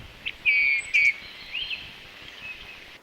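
Small birds chirp in late-winter woods as snow begins to melt: a few short, bright calls and trills close by, then fainter twittering against a quiet background.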